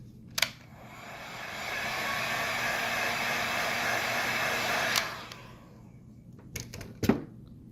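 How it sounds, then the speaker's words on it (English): A heat blower whirs steadily for about four seconds while warming an iPhone XR screen part during repair, bracketed by a few sharp clicks and taps from handling. "Blow a little bit of heat on that."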